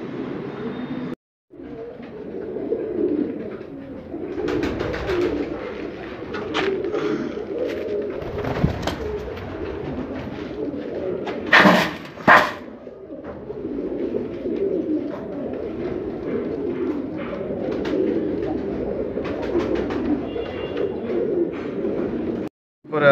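Fancy pigeons coo in a flying zone loft, with soft repeated throaty calls close by, some wing flutters and a few sharp bursts, and someone talks intermittently over them.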